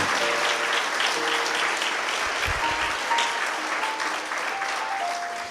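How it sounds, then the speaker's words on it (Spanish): A church congregation claps loudly in a sustained round of applause that slowly eases toward the end, with a few held tones sounding faintly underneath. "Dáselo fuerte si le quieres aplaudir."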